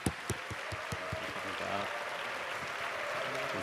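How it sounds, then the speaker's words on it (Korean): A church congregation claps in loud, continuous applause to welcome a pastor to the stage at a worship event, with a few sharp claps standing out near the start over the dense crowd noise. "우리 목사님 나오실 때 큰 박수로 맞이하도록 하겠습니다."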